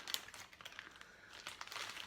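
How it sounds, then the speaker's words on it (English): A plastic bag protecting food in a cooking class crinkles and rustles as it is opened and pulled off, a run of soft irregular crackles heard close and alone. "So this plastic bag here, it's just to protect the first one that is inside this one."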